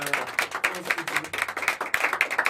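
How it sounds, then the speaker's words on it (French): Studio applause on a radio programme, a few hands clapping unevenly in a small room for about two seconds, with no talking. "on les applaudit"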